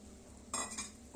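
Peanut powder being stirred into boiling water for Solapur-style shenga bhaji, a quiet steady simmer broken by a short burst of spoon scraping and clinking against the pot midway.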